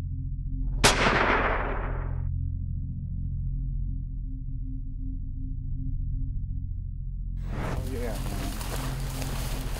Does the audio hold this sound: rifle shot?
yes